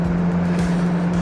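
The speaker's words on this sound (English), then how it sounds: "keep the car going, and yeah, hopefully we make it there before the tide comes in" Four-wheel-drive car pushing through soft sand on a Fraser Island beach track, a loud, steady engine drone heard from inside the vehicle, with no one talking.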